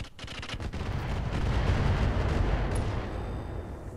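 Weapon fire in a BattleTech-style mech combat video game: a dense, rumbling barrage of blasts that swells and holds for several seconds, then fades slightly, with no voices.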